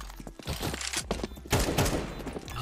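Rapid gunfire from Counter-Strike 2 matchmaking play, dense bursts of automatic shots and sharp cracks crowding close together, loud and continuous with a heavier burst partway through.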